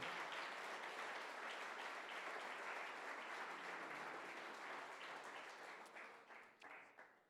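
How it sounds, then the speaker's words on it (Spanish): A church congregation gives a sustained round of applause, thick and continuous, thinning into a few separate claps at the end. "Dele ese aplauso al Señor."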